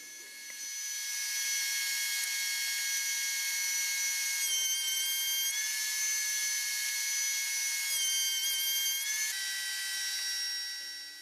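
Router fitted with a drawer lock bit cutting plywood, with a backer block behind the workpiece: a loud, steady high-pitched whine held for several seconds, with two short bursts of harsher cutting noise partway through.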